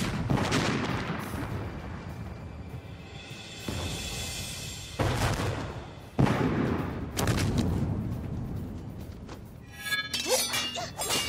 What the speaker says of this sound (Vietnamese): Khai pháo.